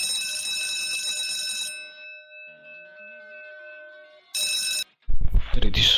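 A ringing, bell-like alarm sounds as in-game background noise: a loud metallic trill that fades into a long ringing tail, then bursts out again briefly before a voice starts talking.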